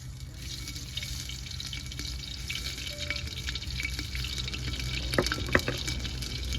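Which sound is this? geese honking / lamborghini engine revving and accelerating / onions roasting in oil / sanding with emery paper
onions roasting in oil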